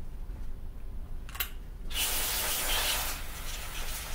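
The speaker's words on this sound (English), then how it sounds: "Once I've sprayed that, the power of the spray will blow away any dust" Cleaning spray hisses onto the cylinder of a Paslode IM65 cordless nail gun, first as a brief puff and then as a steady, close, loud blast lasting about two seconds, with no talking.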